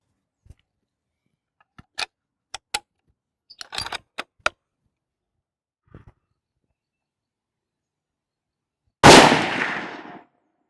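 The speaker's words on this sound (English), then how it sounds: "So I shot 3 shots at 100 yards." Three rifle shots fired at a 100-yard target, each a sharp crack with a brief decaying tail. They come as separate spaced reports among scattered small clicks and handling noises, and a louder burst near the end.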